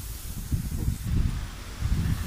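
Strong wind gusts buffet loudly in low rumbling surges on Mount Apayang in Nasugbu, Batangas, with a hissing rush over the top and no talking.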